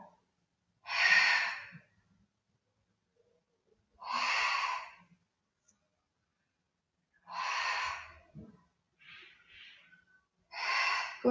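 Sharp, forceful exhalations during Pilates abdominal exercises, five breathy bursts at steady intervals of about three seconds, close and clear against near silence.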